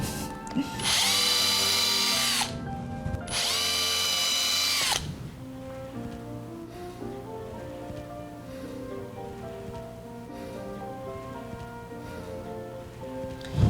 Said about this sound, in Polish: Jak zaczynaliśmy wiertarką, tak musimy skończyć.